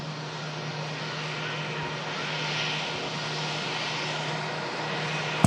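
Qatar Airways airliner on approach to land, a steady broad engine roar with a low hum, fairly constant in level throughout with no talk.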